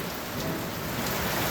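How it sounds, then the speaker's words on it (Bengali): Heavy monsoon rain pours down in Sylhet, a dense, steady hiss of water with no breaks. "বৃষ্টি হচ্ছে, খুবই বৃষ্টি।"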